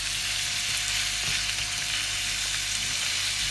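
Pieces of beef steak sear on a cast iron chiminea with a loud, constant hissing sizzle, close up and even throughout, with no talking.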